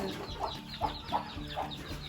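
Chickens raised on a Thai farm cluck softly in a busy background, a few rhythmic clucks rising over steady low farmyard noise.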